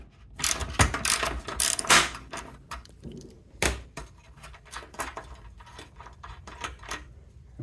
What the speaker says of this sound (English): up here we're going to be using the 9/16 socket